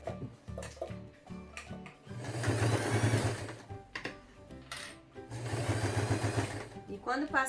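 A sewing machine stitches bias binding onto a summer bag in two bursts of steady mechanical whirring, separated by clicks, handling noises and short pauses.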